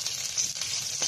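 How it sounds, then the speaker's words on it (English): Garlic sizzles in hot cooking oil for a sauté of ginisang tahong, a steady, close, bright frying hiss with faint crackles and no talking. "I will add the cooking oil, the garlic,"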